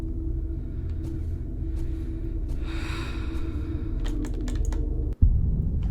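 An E key is pressed and a mouse button clicked nearby, leaving a few sharp isolated clicks over a low steady rumble, with a soft breathy sound in between.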